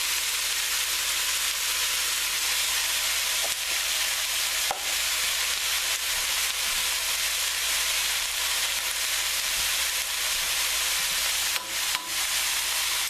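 Onions frying in a pot over a fairly high flame for French onion soup with thyme and bay leaf, a steady, loud, even sizzle with occasional faint stirring clicks and scrapes, no voices.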